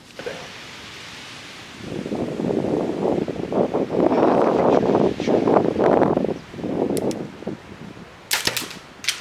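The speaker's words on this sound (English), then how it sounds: "That wind is crazy." Wind gusts outdoors on a wooded 3D archery course, a loud rushing swell that rises and falls for several seconds, then eases off before a few sharp clicks and knocks at the end.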